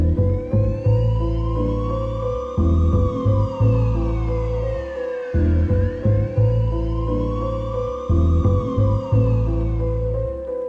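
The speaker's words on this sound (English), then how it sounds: "I added this siren." A vintage siren one-shot sampled into a music track wails in repeated rising and falling sweeps over a pulsing beat with bass and drums, loud and steady throughout.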